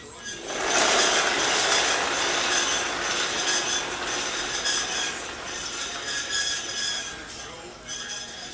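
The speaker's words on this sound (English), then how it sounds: "I'd like to challenge all you guys out there to see if you could beat my rear wheel spinning" A Honda CR500 motorcycle's rear wheel, fitted with a heavy 18-pound tire and a slightly dragging brake, spins freely after a hard push, giving a steady whirring rush with faint metallic ticking that slowly fades over several seconds.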